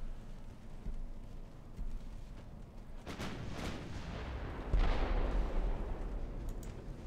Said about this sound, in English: Please focus on the enemy battleship with your main guns.